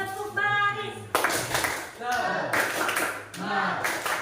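Students in a vocational high school classroom clap in rhythmic bursts by rows on a teacher's cue, the claps arriving in several loud, close groups mixed with voices calling out.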